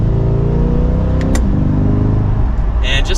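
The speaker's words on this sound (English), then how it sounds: "Let's give it an acceleration." A Chevrolet Corvette C8 2LT Z51 with performance exhaust accelerates in Z mode with manual paddle shifting, a steady, fairly loud engine drone rising in pitch from inside the cabin, with a brief click partway through.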